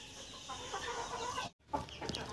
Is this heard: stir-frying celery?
no